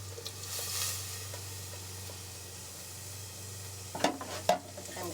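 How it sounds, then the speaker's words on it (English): On a lit camp stove, a burner hisses and hums steadily, then chunky steak and potato soup is poured into the pot with a few short wet splats and plops near the end. "Now I'm going to add my chunky steak and potato soup."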